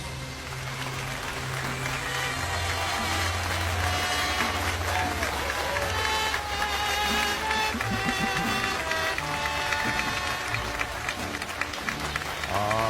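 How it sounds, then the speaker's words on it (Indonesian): Audience applause for a head nun at a gathering in a telenovela scene, steady clapping from a crowd mixed with music and some background voices. "aku ingin meminta kalian semua untuk memberikan tepuk tangan untuk suster kepala Piedad de la Luz."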